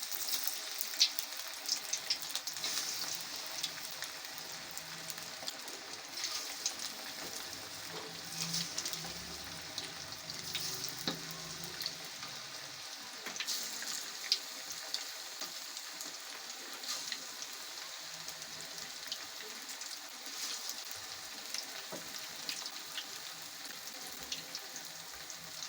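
Marinated chicken pakora pieces frying in hot oil in a kadhai, giving a steady, bright crackling sizzle that runs throughout with occasional pops and no talking.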